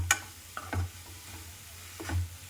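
Chicken masala being stirred into an ivy gourd and gram flour fry, with a few soft scraping strokes of a spoon in the pan over a low, steady sizzle.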